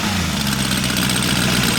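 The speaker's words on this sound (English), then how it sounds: "First thing I noticed when I sat up to start it revs extremely fast." A 1979 Suzuki GSF1200 street bike with a built 16-valve engine and 13-to-1 Wiseco pistons runs hard and close, its dense mechanical roar mixed with the rattle of the carburetor slides, steady throughout.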